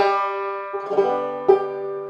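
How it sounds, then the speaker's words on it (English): Clawhammer banjo played with the basic frailing strum, a rhythmic downward brush-and-strum pattern: ringing open strings with two sharp strummed accents, solo and close. "the tricky part of the claw hammer banjo, it's in this right hand, this basic, they call it the basic frailing strum"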